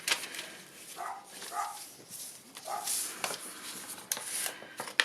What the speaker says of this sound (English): Really sorry about the dog barking.